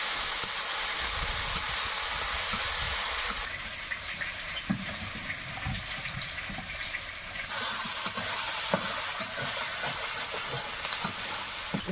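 Onion, chilli and ginger paste frying in a little oil alongside bitter gourd, giving a steady, close sizzling hiss with faint scraping and stirring clicks throughout.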